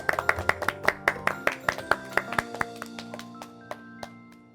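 Children clap their hands in an irregular burst of sharp claps, loud and close at first and thinning out to a few scattered claps, over soft background tones.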